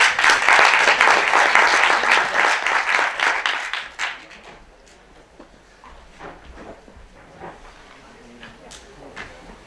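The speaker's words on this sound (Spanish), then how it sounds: "un fuerte aplauso" An audience at a talk on the West Nile virus breaks into loud applause for the incoming speaker. It fades after about four seconds into faint room noise with scattered claps.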